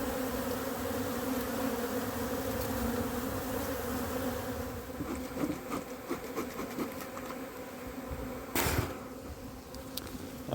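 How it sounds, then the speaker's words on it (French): A honeybee colony hums with young drones taking their first flights, a steady close buzzing swarm drone with individual bees whirring past and a brief louder burst near the end; no speech. "On a plein de jeunes mâles qui sont en train de faire leur premier vol, leur première sortie."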